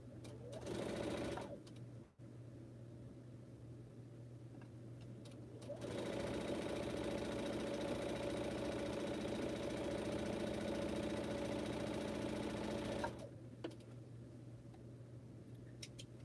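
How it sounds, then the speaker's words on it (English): Home sewing machine chain piecing quilt seams, with short bursts of whirring stitching, then a long steady run, then a pause, all over a low constant hum, close and quiet. "I always got another piece that need to be sewed, so if I do, I go ahead and sew that seam instead of breaking my thread"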